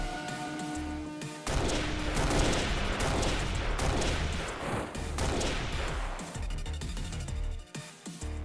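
Autocannon fire in the XPiratez video game rattles in a dense, continuous burst of rapid shots lasting several seconds, loud and close, with no talk.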